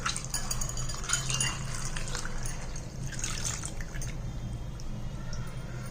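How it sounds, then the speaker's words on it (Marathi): Water swishes and drips softly as kidney beans are rubbed and rinsed by hand, a faint, steady sloshing over low background hum. "छान असं चोळून चोळून धुवायचं आहे"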